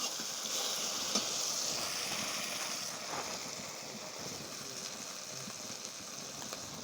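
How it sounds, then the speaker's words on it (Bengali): Tel koi fish curry is stirred in a pan of hot oil with salt, giving a steady close sizzle and frying hiss with soft scraping stir strokes throughout. "নাড়িয়ে দেব ভালো করে।"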